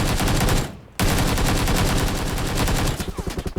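Sustained automatic gunfire from a PUBG match, loud and close, rattling almost continuously apart from one short break, then trailing into spaced single shots.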